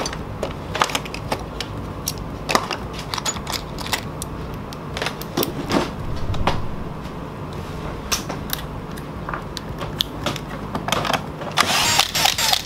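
A power tool backs out 8 mm screws holding a speaker in a Nissan Frontier, with close clicking, whirring and rattling bursts that repeat irregularly and grow busier toward the end.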